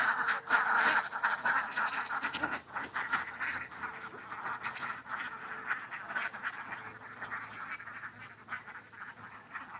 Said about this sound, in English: One of the great joys in Bali is seeing the ducks work the rice fields.